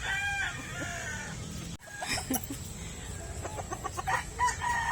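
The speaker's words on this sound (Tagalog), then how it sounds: "Tapos na tayo pakain manok." Chickens cluck and a rooster crows nearby while being fed, with several birds calling over one another in a steady farmyard din.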